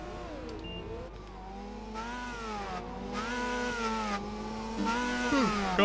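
Several engines rev and whine in the street race stage of Project Gotham Racing 4, rising and falling in pitch as cars shift gears, growing louder toward the end.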